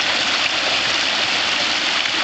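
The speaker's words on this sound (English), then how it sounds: "this is just a little water wheel made from PVC pipe" A small water wheel made from PVC pipe turns in a stream, its splashing lost in a steady, broad rush of flowing water that holds even throughout with no talking.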